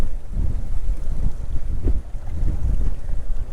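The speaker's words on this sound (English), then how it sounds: "Hopefully the audio is all right in this just insane wind here" Strong, gusting wind buffets the microphone on a fishing boat, a loud, continuous low rumble with faint water sounds beneath it and no talk.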